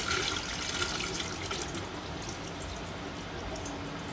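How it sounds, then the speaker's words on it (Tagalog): Rice grains being washed in water, a soft continuous sloshing and trickling swish, fairly faint and steady for a few seconds with no talking. "Hugasan pa natin isa."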